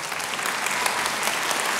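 A live television singing contest audience applauds a singer with steady, dense clapping that fills the room, heard in a short burst with no voices over it.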